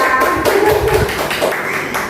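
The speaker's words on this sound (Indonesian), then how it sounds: "Tepuk tangan ya, guru swasta" Group of teachers clapping hands in a school meeting room, a burst of brisk, uneven claps close by, fairly loud, dying out near the end without speech.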